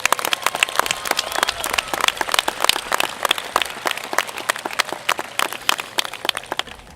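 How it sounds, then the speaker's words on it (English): Applause at the 2018 Shawnee Mission North graduation ceremony: a crowd claps in a dense, crackling patter of individual hand claps, fairly close and steady throughout, with no talking over it. "How about a round of applause for it?"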